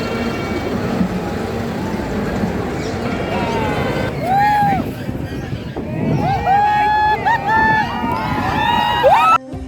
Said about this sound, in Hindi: बाली यात्रा, जहाँ भीड़ भाड़ और मोल भाव।